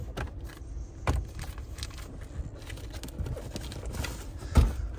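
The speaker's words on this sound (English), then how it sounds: "We'll open up that glove box now." The glove box of a 2020 Toyota C-HR Hybrid opens in a quiet cabin, marked by a couple of sharp plastic latch clicks and soft handling knocks spread over a few seconds.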